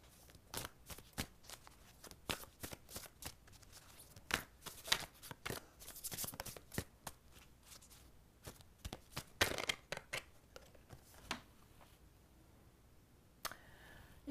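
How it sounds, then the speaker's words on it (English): Self-compassion oracle card deck being shuffled, a rapid series of crisp riffling clicks and flutters in uneven bursts, close and fairly quiet with no talking. "Let's pull a card for you from the self-compassion deck."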